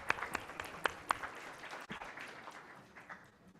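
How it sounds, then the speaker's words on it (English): Faint applause greets distinguished panel guests at an annual hemispheric security conference, scattered, distant claps with a few sharper nearby ones, tapering off over a few seconds. "let's give a warm round of applause to our distinguished guests"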